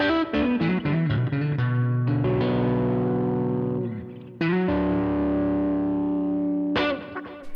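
An electric guitar fitted with Seymour Duncan Everything Axe pickups, set to coil split for classic Strat tones, plays distorted, effect-laden chords that ring out and sustain between fresh strums. It is close and loud, with no talking.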